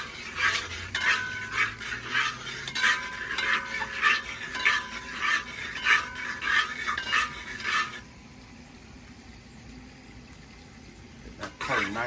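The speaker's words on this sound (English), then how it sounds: "Stir this up a little bit." Curry duck being stirred in a pot, a spoon scraping and clinking against the metal in a steady rhythm of strokes for several seconds, then stopping, leaving quiet room tone with a faint clatter at the end.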